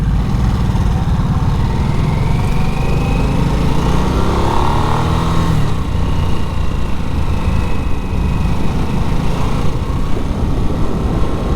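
A liquid-cooled 975cc Harley-Davidson Nightster motorcycle engine runs steadily and loudly for the whole stretch, a continuous close-up drone with wind rush and slight pitch swells as the throttle shifts, and no voices.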